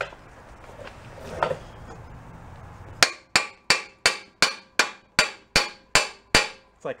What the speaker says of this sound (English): Whack it with a hammer a little bit.